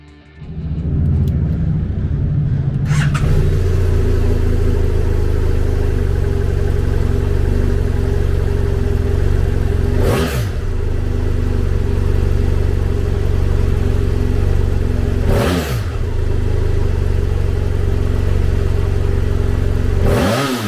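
2009 BMW F800ST 798cc parallel twin motorcycle engine started up, then idling loudly and steadily with three quick throttle blips spaced several seconds apart, close and alone.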